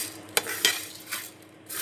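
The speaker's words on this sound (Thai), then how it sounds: "แล้วก็คั่วอย่างเงี้ยไปเรื่อยๆนะคะ ให้มีกลิ่นหอม" Rice grains dry-roasting in a hot pan are stirred, giving a few scraping clinks and soft sizzling rustles, close and fairly quiet, with no talk.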